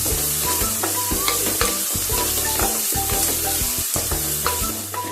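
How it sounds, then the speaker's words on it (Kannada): Chopped onions frying in oil over a high flame until golden brown, for a chicken gravy. They give a steady, dense sizzle with stirring scrapes and small pops throughout, close and alone with no voices. "ಗೋಲ್ಡನ್ ಬ್ರೌನ್ ಆಗೋವರೆಗೂ ನಾವು ಇದನ್ನ ಕುಕ್ ಮಾಡಬೇಕು."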